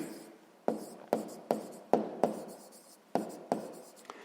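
Handwriting during a sixth-grade math exercise makes about eight sharp, scratchy strokes at uneven intervals, close and quiet, with no voices.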